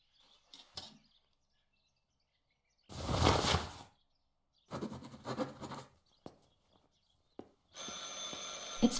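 Telephone ringing in the video game Martha Is Dead, several separated bursts of ringing with short silences between them, fairly faint and clear, ending in a steadier ringing tone.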